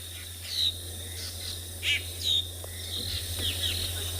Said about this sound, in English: There are lots of birds calling. Drongos. Mostly drongos.